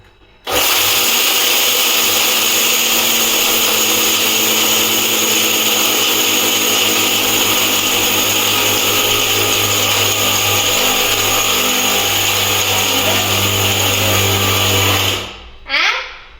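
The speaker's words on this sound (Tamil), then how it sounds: "மிக்ஸி போட்டாச்சு" A kitchen mixer grinder whirs loudly and steadily for about fifteen seconds, then cuts off abruptly near the end.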